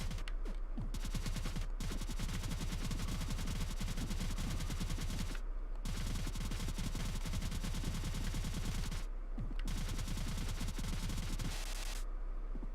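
Rapid, dense bursts of weapon fire from the bubble gun in the Cave Story game, a steady crackling stream broken by short pauses, loud and continuous with no talk.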